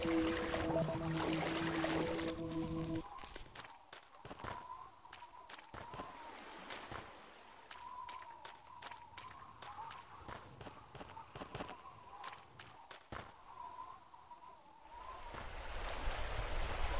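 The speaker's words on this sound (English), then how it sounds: "I love the sound of this waterfall." A waterfall in the video game Seed of Life rushes steadily as a broad, constant wash of water, with scattered clicks and game sounds on top and a louder burst of effects at the start and end.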